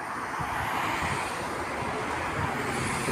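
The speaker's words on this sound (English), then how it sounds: "That's another Porsche." A Porsche sports car passing along a suburban street, a steady broadband engine and tyre rush that holds throughout at moderate distance, with no voices.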